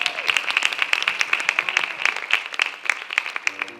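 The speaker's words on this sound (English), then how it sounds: "Let's give another round of applause." Another round of applause from the audience at a Black History youth presentation, a steady patter of many hands clapping at moderate loudness for several seconds, with no speech over it.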